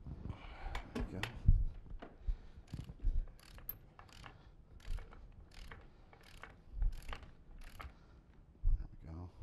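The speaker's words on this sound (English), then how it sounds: "Star pattern, we're going to start torquing it down." Ratchet wrench clicking in short repeated bursts while torquing the bolts of a pipe mechanical joint in a star pattern, fairly close, with a few heavier knocks and brief speech now and then.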